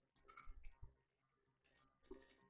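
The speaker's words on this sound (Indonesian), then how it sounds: "lalu ketik cd" Keys click on a computer keyboard as a short command is typed in two quick bursts with a pause between them, quiet and close in an otherwise silent room.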